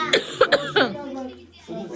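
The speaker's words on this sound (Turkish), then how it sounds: "Öksürük tuttu." A few short, bursty coughs in quick succession, close by, followed by a faint voiced sound.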